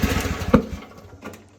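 A smoking Chinese mini excavator engine cranking on choke, giving a short, rough, sputtering run of chugging pulses that fades out after about a second.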